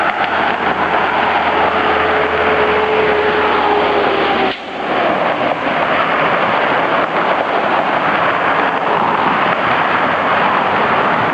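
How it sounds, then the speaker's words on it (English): Steady roar of traffic on a busy road at a busy time of day, with cars and engines passing continuously and a brief dip midway, loud and broadband throughout without talk. "Look, here more cars coming."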